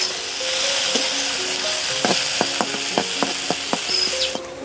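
Tangra fish frying with salt and turmeric in a hot pan: a steady close sizzle with a series of sharp clicks and scrapes from stirring, no talking.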